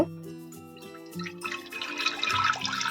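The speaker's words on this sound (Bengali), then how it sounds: "কুকারে আমি অল্প জল দেব" A small amount of water splashes into a pressure cooker on a gas stove, a soft brief pour in the second half that follows faint tonal background sound.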